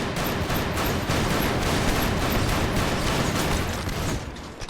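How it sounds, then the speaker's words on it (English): A burner rifle in the Space Station 14 game fires high explosive rounds into a wall as a dense, continuous roar of rapid blasts and crackling, loud and close throughout with no voices. "Just using high explosive rounds on this wall, you can just see why I think this gun's so neat."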